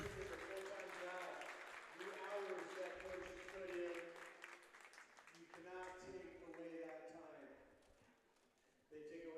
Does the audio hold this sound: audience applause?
yes